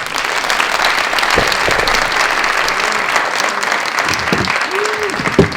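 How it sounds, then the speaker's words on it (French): An audience applauds an illustrator and comic artist, a loud, sustained burst of clapping from many hands filling the room, with a few voices murmuring underneath. "on va l'applaudir"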